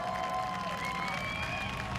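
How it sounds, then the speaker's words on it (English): A crowd at a demolition-derby enduro race at a speedway applauds and cheers steadily, a dense wash of clapping with a few whistles rising over it. "Let's hear it for Derek."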